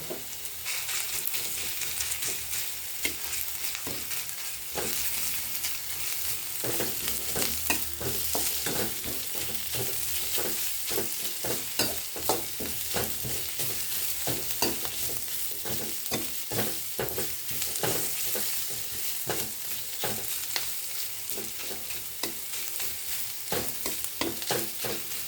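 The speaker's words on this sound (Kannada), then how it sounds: "ಹಸಿ ವಾಸನೆ ಹೋಗೋವರೆಗೂ ಫ್ರೈ ಮಾಡಿ." Ginger garlic paste fries in hot oil in a pan for vegetable fried rice, with a continuous sizzle broken by frequent scraping stirs of a spatula, close and steady with no talking.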